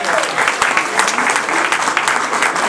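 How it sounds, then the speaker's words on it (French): Audience applause for a player at a post-match gathering of the URB Tours club, a loud, dense clapping that holds steady for the whole stretch, with sharp individual claps standing out and a murmur of voices mixed in. "Je vous demande d'applaudir Saïd Bendriss."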